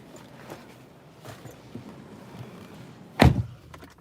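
A car door shuts with a single loud, close thud near the end, after a few seconds of quiet rustling and handling noise.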